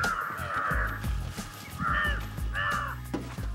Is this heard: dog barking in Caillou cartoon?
no